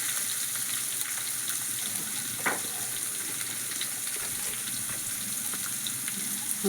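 Soybean chunks stir-fried in a pan with a pinch of salt until browned, sizzling steadily and evenly throughout with faint stirring scrapes.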